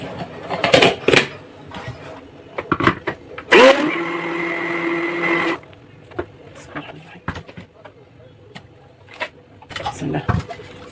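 An electric mixer beating cake batter ingredients together runs in a steady whir for a couple of seconds, loud and close, set between bowl clatter and bursts of nearby speech.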